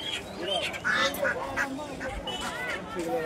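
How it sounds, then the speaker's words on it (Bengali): Ducks for sale at a busy village market, with repeated close quacks in irregular bursts. They sound over a background of crowd babble and people talking. "এখানে মুরগি, বতক, মানে কি বলবো, হাঁস দেখুন"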